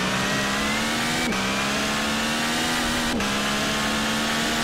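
Steady high-pitched drone of a BR Engineering LMP1 prototype race car engine in a racing video game, holding a constant whine with two brief shift dips in pitch, loud and continuous with no talk.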